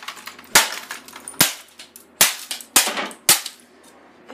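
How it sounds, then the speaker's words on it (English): Pickaxe blows smashing the glass screen of a Dell XPS laptop: five sharp, loud impacts at irregular intervals, each with a brief crunching, shattering tail of glass. "Can you stop hitting the screen? There's glass going everywhere."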